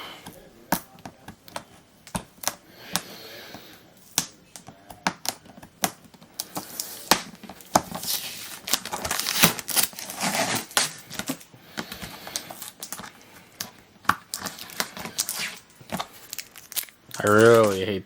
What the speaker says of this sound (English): I'm going to take off all the tape.